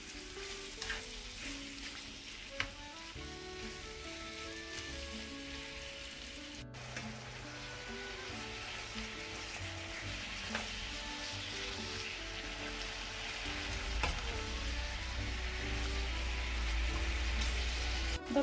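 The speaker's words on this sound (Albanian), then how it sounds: "Dhe japim kohë për 10 minuta që mishi të fërgohet mirë." Veal sizzles and fries steadily in a pan with butter and onion, a continuous crackling hiss with occasional stirring, growing slightly louder toward the end, with no talking.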